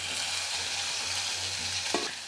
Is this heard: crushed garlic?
yes